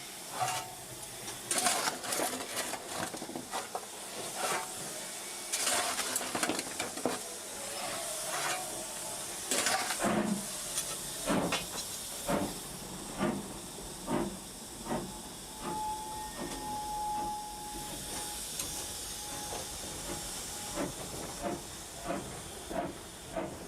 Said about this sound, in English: Rebecca Groome takes the engine away as gently as possible, bearing in mind there's a sharp climb ahead